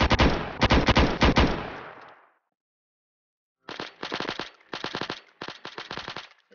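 ACS R15 gun system firing in a Roblox game, two close, loud bursts of rapid automatic shots separated by a stretch of silence, with no talking.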